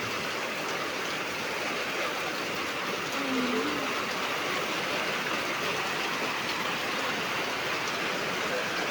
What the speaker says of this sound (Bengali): দেখেন বৃষ্টি কি অবস্থা, পানি পানি নামতেছে।